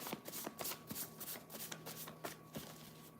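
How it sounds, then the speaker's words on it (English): Tarot cards being shuffled by hand, a quick run of crisp riffling flutters and soft slaps, close and fairly quiet, with no talk. "Look at this. I just stopped. It says stop shuffling."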